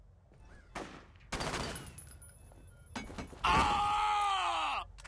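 Gunfire in the shooter game F.E.A.R. comes as several loud bursts of shots separated by pauses, ending in a long sustained burst with a ringing, whining tone, all close and harsh.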